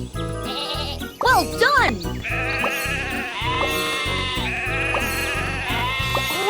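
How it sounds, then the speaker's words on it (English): Cartoon sheep bleat in a children's train game, with a couple of wavering bleats near the start over bright, jingly backing music. A cheerful voice speaks briefly. "Sheep have wandered onto the tracks!"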